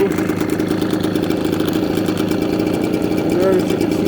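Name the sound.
Ryobi BP42 backpack leaf blower engine idling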